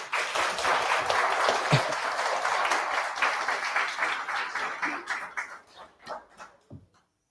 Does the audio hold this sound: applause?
yes